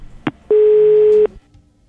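After a call is hung up, the telephone gives a single steady electronic tone lasting under a second, preceded by a short click and followed by quiet.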